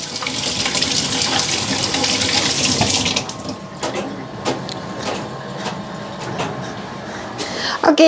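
Cherries being washed under a running tap in a sink, a loud steady water rush for a few seconds followed by lighter splashing and dripping as the fruit is handled, close by.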